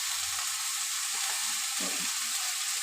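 Shredded cabbage going into a pan of moong dal khichdi, giving a steady, even sizzle and hiss close by, with faint stirring scrapes near the end and no talk.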